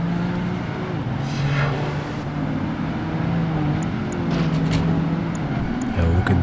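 Cars in the Project Gotham Racing 2 street race in Hong Kong roar steadily on a three-lap circuit, engine drone rising and shifting pitch, with a voice talking over it.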